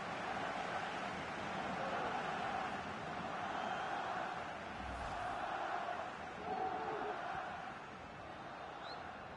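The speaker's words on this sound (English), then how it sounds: "the crowd applauding as he's been taken off the winger, and his teammates applauding as well" Stadium crowd in the FIFA 19 football video game as a player is substituted: a broad, steady roar of many voices at a distance, fairly faint, continuous throughout with slight swells.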